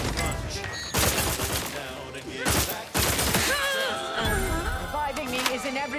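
Rifle gunfire in The Outer Worlds 2, several loud bursts over a busy game soundscape with music-like tones, while a person talks intermittently.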